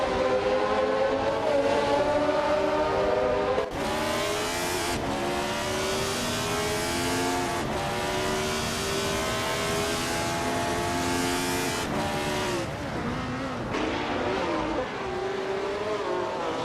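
Race cars in a racing video game scream past with rising and falling engine whines, several overlapping motors shifting pitch, loud and continuous throughout.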